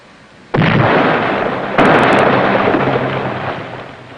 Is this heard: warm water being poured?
no